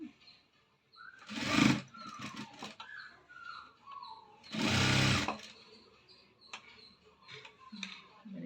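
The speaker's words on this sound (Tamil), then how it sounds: "ஆஃப் இன்ச்சு அப்படியே தையல் போட்டுக்கோங்க" A sewing machine stitching a cross-cut blouse runs in two short, close bursts of rapid mechanical whirring, separated by quiet pauses.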